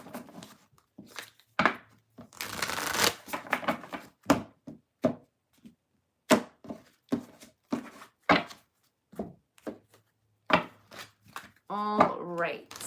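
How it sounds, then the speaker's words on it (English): Tarot cards shuffled in a series of soft, irregular riffling and tapping bursts with short pauses between them, a denser flurry early on, and brief talk near the end. "Shuffle a little."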